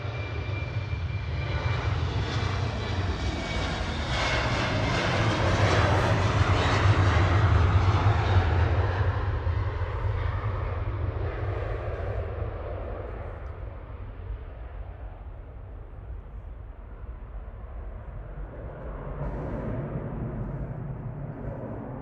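A Finnair Embraer E190 jet departs Manchester Airport for Helsinki at night. A loud, broad engine roar swells toward a peak and then slowly recedes into a fainter distant rumble, with no talk.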